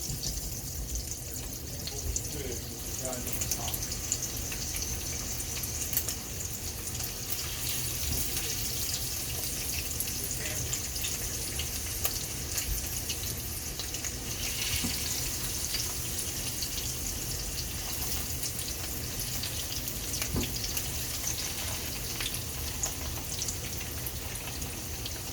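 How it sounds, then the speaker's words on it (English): Fish laid with tongs into a hot pan fries with a steady, dense crackling hiss that runs unbroken at close range, with no voices over it. "You want to take your tongs and gently lay them down in your pan."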